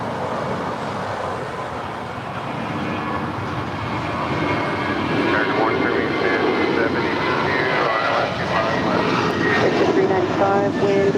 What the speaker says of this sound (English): we got that JetBlue A320 heading to Cabo, now rolling down 25 right